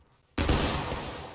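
Line infantry in the Civil War video game War of Rights fire a musket volley, a single loud crackling blast of many shots together after near silence, followed by a long rolling decay.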